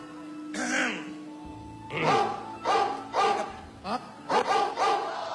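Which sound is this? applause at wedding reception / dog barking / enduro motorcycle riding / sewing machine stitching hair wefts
dog barking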